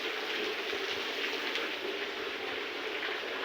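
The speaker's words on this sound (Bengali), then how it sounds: "আমাদের কৃত্রিম বৃষ্টি হচ্ছে, অটো পানি করতেছে বৃষ্টির মতো" An artificial rain spray showers water over animals being bathed, producing a faint, even hiss like steady rainfall that runs unbroken throughout.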